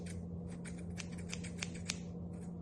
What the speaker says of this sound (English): Grab your scissors.